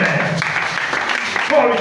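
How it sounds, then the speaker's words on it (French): A church congregation claps together in a short burst of steady applause, with voices mixed in over the clapping. "Acclamez pour vous-même."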